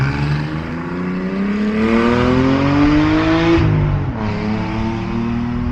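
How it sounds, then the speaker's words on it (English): Loud, close car engine noise from a freeway beside a campground resort, with a droning whine that climbs steadily in pitch, dips briefly, then settles into a constant roar. "I'm sure you can hear the cars and see them here on the freeway."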